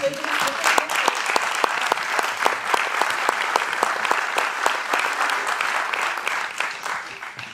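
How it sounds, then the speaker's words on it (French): A theatre audience at a meeting with an English filmmaker and actor breaks into sustained applause, dense steady clapping from many hands filling the room throughout. "On peut applaudir."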